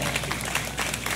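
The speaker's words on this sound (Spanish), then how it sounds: "démosle un fuerte aplauso" An audience at a patronal festival applauds the presentation of a queen and her court, a steady wash of many hands clapping at once, fairly loud, with no single claps standing out.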